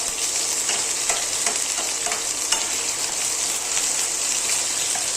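Mustard seed tempering and a spice paste frying in a pan for paneer bhurji, a loud continuous close sizzle with scattered sharp crackles and pops and no talking.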